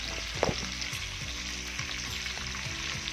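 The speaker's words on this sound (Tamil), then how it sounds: "இப்போ அதில் நல்லா சேர்த்து நல்லா வதக்கி விட்டுறலாம்" Sliced onions with masala fry in a pressure cooker, a steady close sizzle broken by a few scraping stirs of a spoon against the metal.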